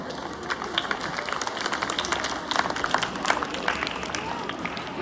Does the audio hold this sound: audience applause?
yes